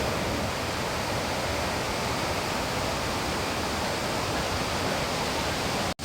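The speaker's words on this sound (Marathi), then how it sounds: "हा पहा माझ्या चंद्रनगर गावाचा अशोक मामाचा धबधबा. पाणी बघा किती जोराने वाहतोय" Strong, steady roar of a waterfall in Chandranagar village in Konkan, water rushing hard and filling the scene with continuous broadband noise, close and loud throughout, cutting off abruptly at the very end.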